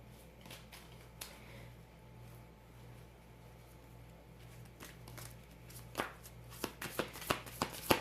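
Tarot cards are shuffled and drawn close by in a quiet room, soft riffles and slides giving way to a series of crisp snapping flicks toward the end over a low steady hum.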